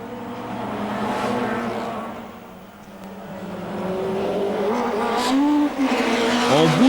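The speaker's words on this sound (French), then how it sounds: "L'Alpha est en tête de la course, mais la BM est dans ses échappements." Alfa Romeo and BMW Procar touring race cars battling on the Chimay road circuit in 1997, engines howling and rising in pitch through the gears, loud and close with tire squeal as they pass.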